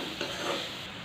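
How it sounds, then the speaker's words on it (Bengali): Potatoes being stirred into fried banana stem in a pan, a steady soft scraping and stirring over a low continuous sizzle, close and fairly quiet with no talk. "আমাদের যেহেতু ভাজা হয়ে গেছে, এখন আমরা আলুগুলো মিক্স করে নিচ্ছি।"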